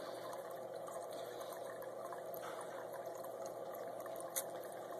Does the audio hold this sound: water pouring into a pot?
yes